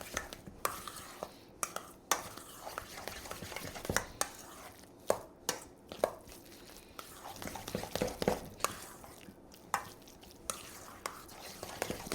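Egg salad is stirred in a bowl with a utensil, making soft, irregular scraping and tapping knocks at close range over a quiet background.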